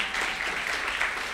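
A church congregation at an Advent service claps together in a brief, dense burst of applause. The clapping is close and steady and stops quickly.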